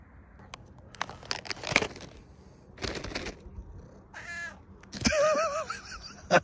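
A domestic cat meows several times at close range, with short cries, a warbling caterwaul toward the end, and rustling handling noises between calls.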